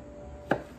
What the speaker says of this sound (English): take the long way and just cut them into little portions